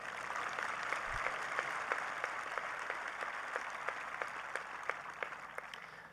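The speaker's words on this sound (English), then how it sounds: "Can I get a round of applause for that?" At a high school graduation ceremony the audience applauds, a fairly faint, distant wash of clapping in a large venue, with a few sharper nearby claps popping out at a steady pace.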